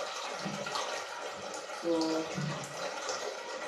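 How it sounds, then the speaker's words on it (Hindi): Water pours steadily into a metal cooking pot (degchi) being filled for boiling noodles in a home kitchen, a continuous splashing rush with a brief spoken word over it. "इसके लिए मैंने एक देगची में पानी ले लिया"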